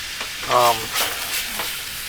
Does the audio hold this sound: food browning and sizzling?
yes